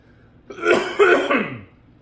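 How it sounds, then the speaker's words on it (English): A single throat-clearing cough, a rough guttural burst in two quick pushes, close by and fairly loud, with quiet before and after. "I got a little bit of a cough going on."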